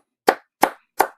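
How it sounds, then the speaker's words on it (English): Three sharp hand claps ring out alone at an even, unhurried pace, each a crisp, close slap with a quick decay. "gonna clap my hands."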